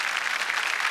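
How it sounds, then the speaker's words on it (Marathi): A studio audience at a comedy show applauds, a dense, even wash of many hands clapping together, loud and sustained throughout. "जोरदार टाळ्या अशा सगळ्या"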